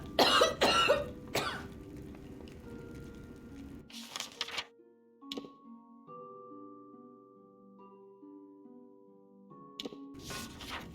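A man coughs several times in Kingdoms of Amalur: Reckoning, a loud burst of harsh coughs up front, then quiet game music with sustained tones, followed by more coughs near the end.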